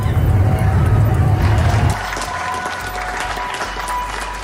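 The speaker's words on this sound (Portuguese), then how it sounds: "Profissionais de saúde são aplaudidos pelo mundo." Crowds applaud health workers during the COVID-19 pandemic, a dense wash of distant clapping heard outdoors with a low rumble, then a cut to quieter street noise and murmuring.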